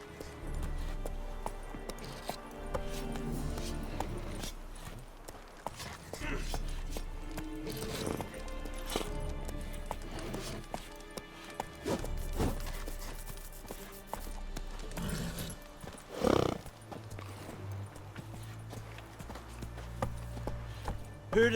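Roach the horse gallops in The Witcher 3, with steady rhythmic hoof clip-clops running through the whole stretch over game music and ambience, plus brief bursts of spoken dialogue.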